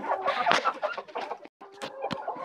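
Several hens, Hisex, Legbar and Jersey Giant, cluck and chatter close by, overlapping murmurs with sharper squawks breaking through, one brief pause midway.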